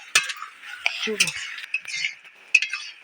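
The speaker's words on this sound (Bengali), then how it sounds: "এইভাবে নেড়ে নেড়ে করে ভালোই হবে" Mango pickle being stirred with sugar, with sharp spoon clinks and scrapes against a bowl coming in short irregular strokes, close and fairly clear.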